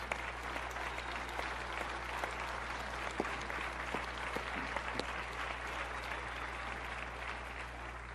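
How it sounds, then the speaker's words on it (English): Crowd at a university athletics hall of fame ceremony gives teammates a sustained round of applause, steady clapping over a constant low hum, moderately distant and fairly quiet. "everyone please give them a round of applause"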